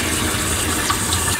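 Tap water gushing steadily for a dog's bath, a close, loud, continuous splashing flow with no break and no talking.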